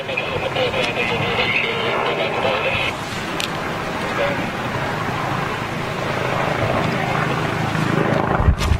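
An NYPD helicopter hovering overhead, its rotor and engine noise a steady broadband roar filling the whole stretch while people talk over it.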